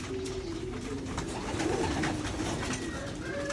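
Racing pigeons kept for training coo in soft, low, repeated murmurs close by over a steady background hiss.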